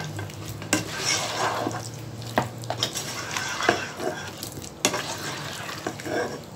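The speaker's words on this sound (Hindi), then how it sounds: "अब इसमें मैं ऐड कर दूँगी टमाटर। अब इसको मैं मिक्स करूँगी।" Tomatoes stirred into mutton roasting in a pan, a continuous sizzle broken by several sharp spoon scrapes and knocks against the metal, close and clear, no voices.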